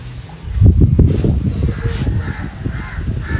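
A crow calls near a house in Jaffna, a few harsh caws close by over low rustling background noise, with no talking.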